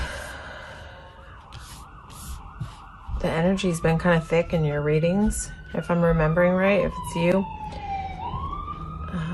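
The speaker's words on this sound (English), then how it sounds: "Sorry about the sirens. I live on a busy street in New York," Emergency vehicle sirens wail along a busy New York street, rising and falling tones weaving under and around a close voice talking, which then carries on over continued siren sweeps.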